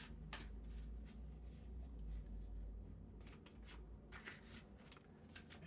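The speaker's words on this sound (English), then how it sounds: "focus on shuffling the cards." Tarot cards being shuffled by hand, soft papery riffles and rubs in quiet repeated bursts, close and gentle.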